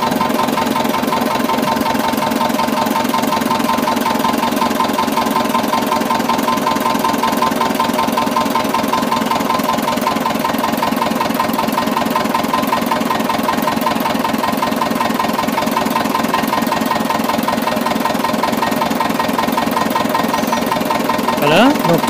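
A Renault V72 tractor engine runs steadily, a loud continuous close-up chugging with a rhythmic low knock that stays even throughout.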